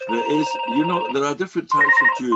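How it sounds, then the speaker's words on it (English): A telephone rings with a steady electronic tone, sounding in two bursts beneath and between a man's lecture-style speech. "Sorry about the phone, it's the line."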